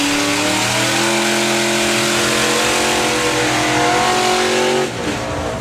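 A drag racing car engine at the Dragstalgia event drones loud and sustained, a steady multi-toned roar that holds for several seconds before easing off near the end, with no talk over it.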